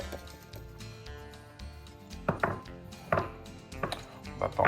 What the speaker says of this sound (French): Je mets le fromage dans mon mixeur.